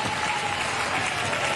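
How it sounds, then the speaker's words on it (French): A crowd applauds both teams after a women's roller derby bout, dense and steady clapping filling the whole short stretch without a break. "On applaudit bien fort les deux équipes."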